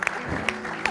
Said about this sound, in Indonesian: Boleh tepuk tangan untuk Ciro dan Naim.